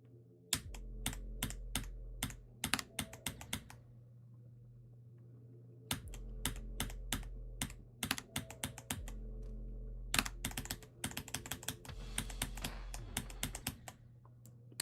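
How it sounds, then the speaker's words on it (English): Rapid bursts of key clicks during a video game, clusters of sharp taps separated by brief pauses over a low steady hum, with no talk. "I was clicking when I died"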